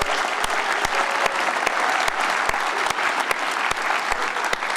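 Sustained, dense applause from an audience at a 2022 Otterbein celebration honoring a group of Cardinals, with sharp individual claps standing out over the steady roar of clapping throughout.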